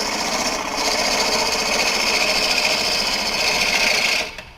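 Push cuts on a thin elm burl spinning on a wood lathe: a loud, steady, buzzing scrape of the tool against the wood runs for about four seconds, then cuts off abruptly.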